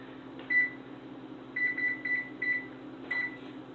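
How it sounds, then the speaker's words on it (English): An oven timer is set for 25 minutes while baking in a home kitchen, giving a series of short, clear electronic beeps, one alone and then a quick run of button presses, over a quiet appliance hum. "we're going to set the timer for 25 minutes"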